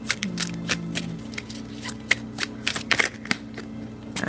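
Tarot and oracle cards are shuffled by hand for a reading, a steady run of soft riffling and flicking close to the listener, with a low background hum and no talking.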